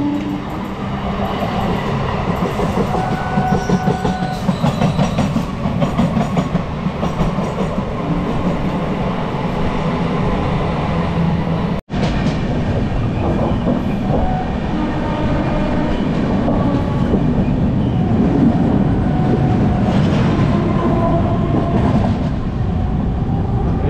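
Loud, sustained rumble of a Shantipur local passenger train moving over tracks near Dum Dum Junction, with rhythmic clattering of wheels and a brief cut midway, no talking.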